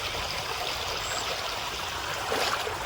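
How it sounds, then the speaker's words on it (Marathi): A countryside stream near farm fields runs full after the first rain of the season, giving a continuous, even rush and trickle of water that fills the short stretch without pause. "मस्त ओढा आहे बघा."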